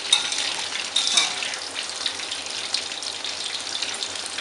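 Chicken skin sizzling in hot oil in a pan, a steady crackling fry with small pops and spatters throughout, close and moderately loud with no talking.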